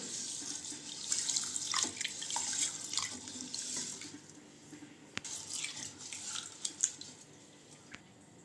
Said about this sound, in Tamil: இந்த தண்ணி ஊற்றி நல்லா ஒரு ரெண்டு டைம் வாஷ் பண்ணிக்கலாம்